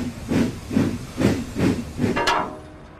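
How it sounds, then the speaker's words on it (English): A steam train puffs in a regular chugging rhythm of about five bursts, then lets out a brighter hiss, matching a toy-train story about a steam engine with a snowplough. "So Emily puffed away to get her snowplow fitted."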